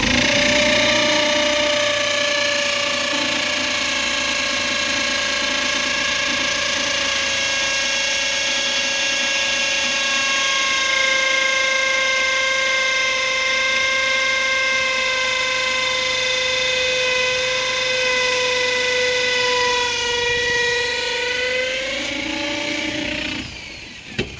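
A power drill boring holes at a building site where concrete is about to be poured, a continuous loud whining motor drone lasting the whole stretch, with its pitch sliding lower near the end.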